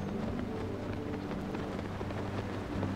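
Steady roar of two waterfalls in the video game The Legend of Zelda: Tears of the Kingdom, a dense, continuous rushing wash of water filling the whole clip with no pauses.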